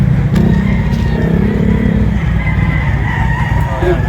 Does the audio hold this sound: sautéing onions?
no